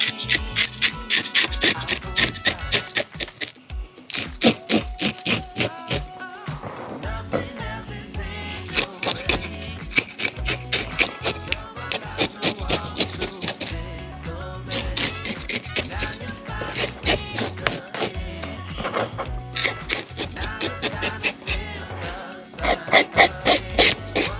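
A fresh sea bass scaled from tail to head, with rapid rasping scrape strokes in quick bursts, close and loud, pausing briefly between runs.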